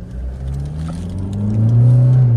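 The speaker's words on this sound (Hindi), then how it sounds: "लो भाई स्पोर्ट मोड पर लग गई गाड़ी" A Toyota Fortuner switched into sport mode accelerates hard, its engine drone climbing steadily in pitch and growing louder. The sound is close and continuous, with no talking.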